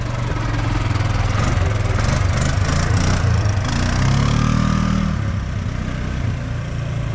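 Engines of a four-wheeler and another small vehicle drone loudly and steadily at a drag racing event, a close continuous rumbling roar that swells briefly mid-way before settling back.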